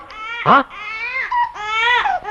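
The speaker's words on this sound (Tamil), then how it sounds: "குழந்தையின் அழுகுரல் சத்தம்?" A baby cries loudly in a Tamil comedy film scene, several wailing bursts with a sharp peak near the start, close and clear with no talk over it.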